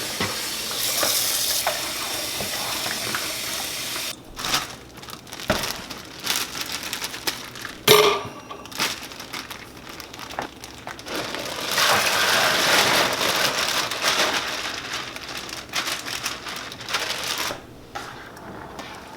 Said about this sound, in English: when you are rinsing your peas, just swirl the water around, swish them around, work your fingers in them